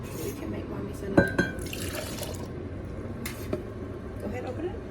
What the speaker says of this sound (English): let's pour it in my cup